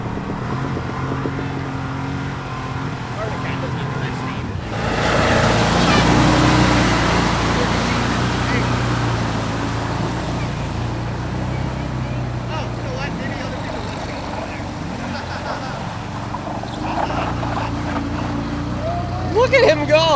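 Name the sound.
off-road side-by-side UTV engine, 49 horsepower, on a mud trail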